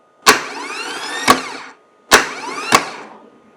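A car starter motor on a bench, wired to a battery, runs through two cycles: each opens with a sharp clunk as it engages, whirs for about a second, then clunks again as it kicks out.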